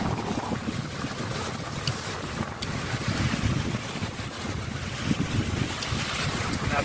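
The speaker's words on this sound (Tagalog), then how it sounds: "Sarap ng hangin." Steady, blustery wind at a white-sand beach roars across the microphone with a constant rush, while surf murmurs underneath and no one speaks.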